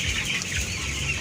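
Fifteen-day-old broiler chickens kept in a two-tier colony cage, a dense steady chorus of high cheeping and soft clucking from many birds at once, close and continuous.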